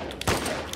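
A single sharp gunshot from The Last of Us Part II video game, a sudden loud crack that rises out of dense game noise and leaves a short tail.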